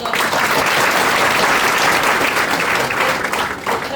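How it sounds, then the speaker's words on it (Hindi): Loud, dense applause from a large audience, steady and sustained across the whole stretch before tapering slightly at the end. "एक बार जोरदार ताली"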